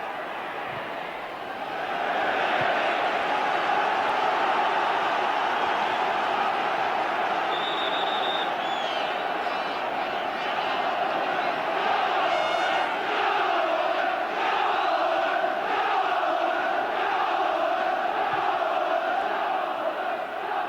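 A packed football stadium crowd at a Manchester United versus Oldham Athletic match roars and chants in a sustained, dense wall of cheering and shouting, distant and reverberant, with a commentator's voice faintly underneath.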